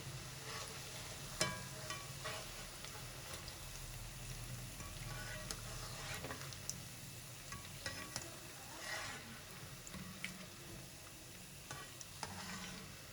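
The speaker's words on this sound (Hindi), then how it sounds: "अब 2 मिनट तक और फ्राई करेंगे फिर हम इन्हें निकाल लेंगे।" Gram-flour and potato pakoras deep-frying in hot oil until golden, giving a faint, steady bubbling sizzle with occasional soft clicks and light taps, with no voices.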